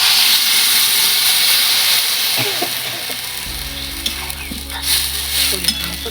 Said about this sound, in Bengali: এবার সিদ্ধ ডালটা ঢেলে দিচ্ছি